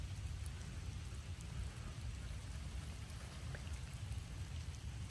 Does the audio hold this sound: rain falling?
yes